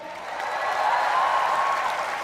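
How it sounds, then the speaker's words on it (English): Applause from the audience at a live Indian comedy roast, a dense, even roar of clapping that holds steady for a couple of seconds, loud and filling the hall. "a huge round of applause to everyone, especially All India BACKCHOD."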